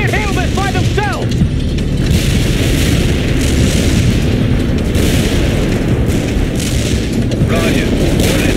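Artillery fire-support explosions in a war video game roll as continuous heavy booms and rumbling blasts, loud and dense throughout, with brief whistling shells near the start and again near the end.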